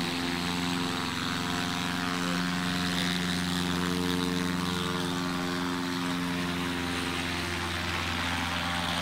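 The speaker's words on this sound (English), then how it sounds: "we had a light experimental aircraft not even taking off that aggressively" A light experimental STOL aircraft takes off at a Sun 'n Fun short takeoff demo at Paradise City, its propeller engine droning loud and continuous throughout without talk.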